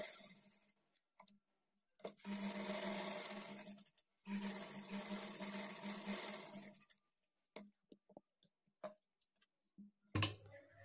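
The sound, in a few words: sewing machine stitching lining to main blouse fabric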